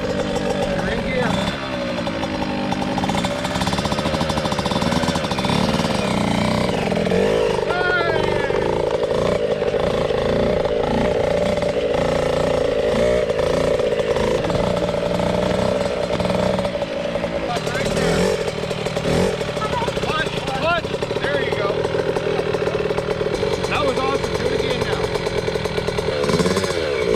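Yamaha YZ85 or YZ65 dirt bike engine running nearby with a continuous buzzing two-stroke drone that rises and falls as the throttle changes, while people talk over it.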